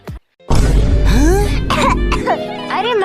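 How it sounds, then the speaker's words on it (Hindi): A child coughs and clears their throat several times in quick succession, close and loud, with whiny vocal sounds mixed in. "खांसी आ रही है"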